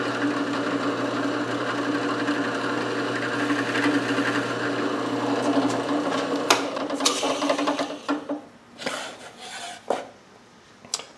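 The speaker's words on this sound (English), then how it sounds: "Okay, so I got the hole drilled." A drill bores a hole through wood for a pen blank sizing jig, a steady close whirring grind for several seconds that breaks into scattered rattles, knocks and short bursts as the bit finishes.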